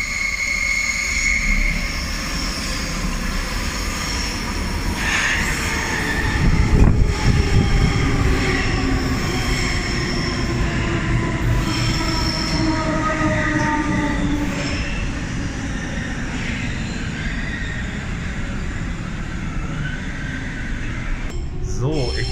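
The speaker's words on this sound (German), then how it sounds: "Ich bin jetzt in den Zug der Baureihe 472 drinne und mit der fahre ich jetzt bis Elbkopfstraße." A class 472 S-Bahn electric train is heard from inside as it runs on rails, with a steady loud rumble, rising and falling motor whine, and a louder clattering burst near the middle.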